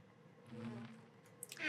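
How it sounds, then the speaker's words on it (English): A Draconic bee from a Minecraft modpack buzzes after spawning, a faint low steady drone with a few brief higher game clicks near the end. "We have a Draconic bee spawn egg."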